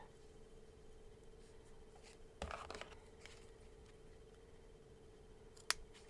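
Scissors snip through ribbon for a birthday card bow, a short cluster of crisp cuts near the middle and one sharp snip near the end against a quiet crafting-room background.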